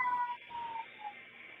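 A cat meows in a few drawn-out, tonal cries close by with no talking over it, one long call followed by shorter wavering ones.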